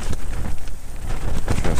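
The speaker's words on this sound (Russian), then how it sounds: "Ветер усилился." Strong wind blusters across a frozen lake during a heavy snowstorm while ice fishing, a loud, rough broadband rush that buffets the microphone throughout a short burst.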